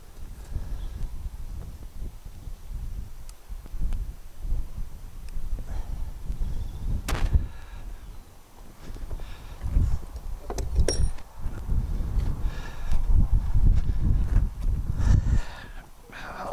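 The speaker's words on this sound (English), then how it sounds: "when you listen back to it, you still get an awful lot of wind noise" Gusty wind buffeting an outdoor microphone, rumbling in uneven low bursts that swell and fade throughout, with a few sharper knocks as it blows across the recorder.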